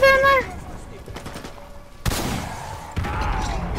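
Gunfire in Call of Duty, a short burst of loud sharp shots with a tonal game sound at the start, then sustained crackling fire and blasts close by.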